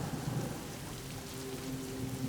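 Heavy rain pours steadily during a powerful thunderstorm, with a low rumbling thunder bed beneath the hiss of falling water, continuous and fairly loud with no voices.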